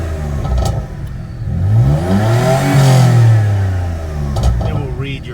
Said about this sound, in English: When you rev it